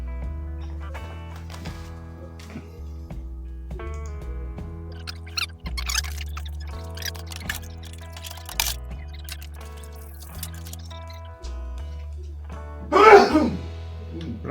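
A single sharp, close sneeze bursts out near the end, following a stretch of quiet office room tone with faint hum and light clicks while a coworker's computer is being repaired.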